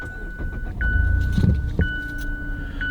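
A keyless-ignition Mazda car starting up from inside the cabin: a soft chime tone sounds, then the engine cranks and catches into a steady idle, close and moderately loud with no talking.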